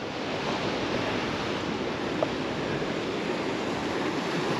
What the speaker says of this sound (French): la mer est un peu plus agitée que tout à l'heure. Bon, il y a un peu plus de vent